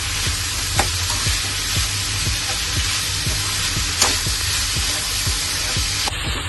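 Vegetables stirred with palya powder in a hot pan, a spatula scraping in a steady, regular rhythm over a continuous close sizzle, with an occasional sharper clink and no speech.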